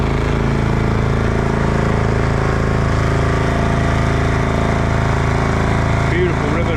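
Small boat outboard engine running on a big river while pushing upstream against a strong current, a loud steady droning hum with a constant throbbing rhythm throughout.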